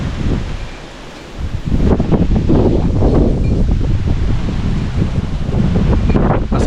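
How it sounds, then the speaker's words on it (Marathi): Strong stormy wind roars loudly and continuously across the microphone outdoors by rice fields, gusting up after a brief lull, with rustling foliage in the background. "एवढा वारा आहे तो बघा आला भयंकर वारा आहे"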